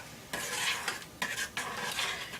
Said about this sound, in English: you're going to take a spoon and stir that for 5 minutes